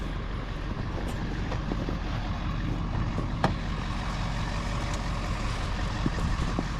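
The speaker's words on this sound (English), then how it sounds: "You can start it and get it warming up." A Jeep engine idles and warms up after being started, a steady low rumble close by, with a few faint clicks and knocks over it. The Jeep sits stopped just off a sloped road near an edge.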